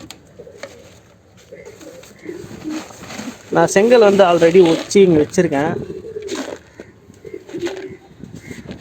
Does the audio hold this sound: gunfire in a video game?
no